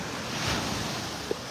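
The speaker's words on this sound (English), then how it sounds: "You can see it in these little waves as they curl up." Small waves curl and wash onto a Gulf of Mexico beach in North Naples, Florida, making a steady, broad rush of surf with some wind noise and no voices.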